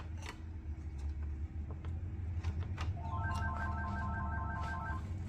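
A phone rings faintly in a car during a 2013-2015 Honda Civic radio installation, a short repeating electronic ring pattern that starts partway in and sits over a steady low hum and clicks of handling.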